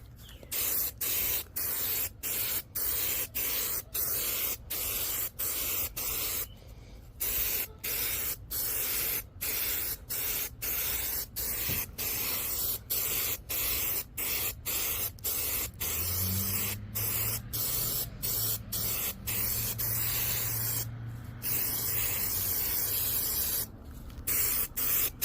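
Spray adhesive hissing from an aerosol can onto a car headliner, a long run of short bursts separated by brief pauses, close and steady with a few longer sprays.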